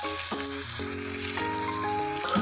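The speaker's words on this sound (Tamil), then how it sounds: "நம்ம வெங்காயம் நல்லா ஃப்ரை பண்ணிட்டோம்." Onions frying in oil for a Bangalore-style bisi bele bath give a steady, close sizzle that runs unbroken for the whole moment, with tonal background music layered over it.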